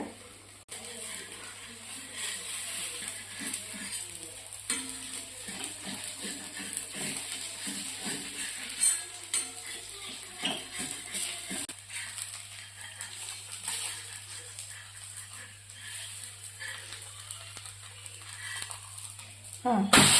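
Thalipeeth fries in oil in a pan with a steady, soft sizzle and hiss throughout, beneath voices and a low constant hum.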